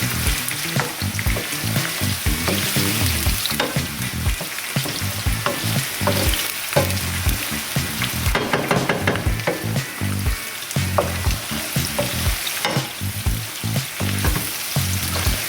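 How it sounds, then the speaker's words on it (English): Onions fry in hot oil for Spanish eggs, giving a steady, close sizzle with frequent stirring scrapes and crackles throughout. "So I'm just going to chuck my onions in. I'm just gonna give them a fry a little bit."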